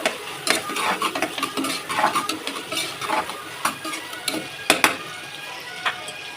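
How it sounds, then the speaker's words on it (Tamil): Tomatoes sautéing and being stirred in a pan, with repeated scraping and clinking strokes of a spoon against the metal over a soft, steady sizzle, close and moderately loud, no talking. "நெக்ஸ்ட்டு தக்காளி போட்டுக்கலாம். தக்காளி நல்லா வதங்கணும்."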